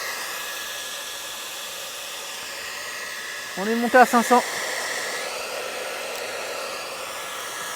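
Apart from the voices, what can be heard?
hair dryer running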